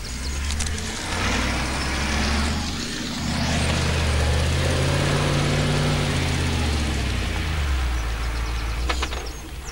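A 4x4 vehicle's engine works steadily in third gear as it climbs up and over a hill, a loud, continuous drone that rises and falls a little, with no talking.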